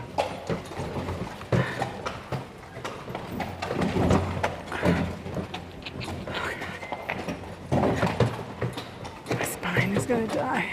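A horse's hooves clop on stone paths at Petra on the way to the Monastery, in an irregular walking rhythm, moderately close, mixed with people talking and other ambient noise.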